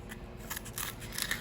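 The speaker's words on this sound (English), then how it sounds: "I'm going to use my smaller scissors for that." Small scissors snipping through cardboard, a few quick close cuts in a quiet room.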